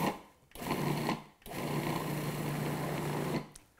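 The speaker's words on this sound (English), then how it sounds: "And then we'll pulse that together and make sure it's all well blended" Food processor pulsing cream cheese and sugar for a pumpkin cheesecake, heard as three steady motor bursts with short pauses between them, the last run longest, close and fairly loud with no talking.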